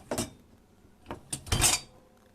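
Pots and dishes clatter as they are loaded into a Siemens dishwasher, with three short clanks of cookware against the racks, the last one longest and loudest, and quiet pauses between them.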